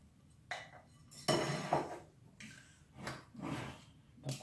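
Stale bread pudding batter being stirred in a bowl, with several close scraping and clinking strokes of a utensil against the bowl in irregular bursts, mid-loud with quiet gaps between them.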